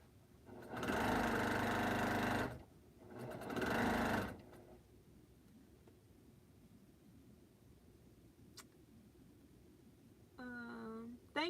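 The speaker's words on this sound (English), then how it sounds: "now I'm just sewing them in the row" A home sewing machine stitches pieced quilt rows together in two steady whirring bursts of about two seconds each, close and loud, then low room noise and a brief faint mechanical sound.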